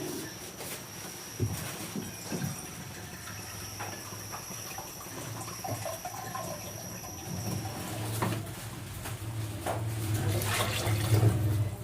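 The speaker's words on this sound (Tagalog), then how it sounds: "maglalagay muna tayo ng tubig" Water splashes and runs into a cooking pot for chicken sopas, a fairly quiet, uneven pour with a few clinks and handling knocks, swelling louder toward the end.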